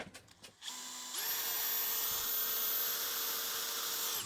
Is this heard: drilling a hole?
yes